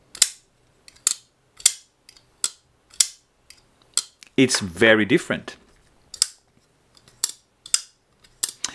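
A Holt Bladeworks Specter version 2 pocketknife being flicked open and shut, about a dozen crisp, sharp metallic clicks at a steady pace, close up, with a short spoken remark partway through.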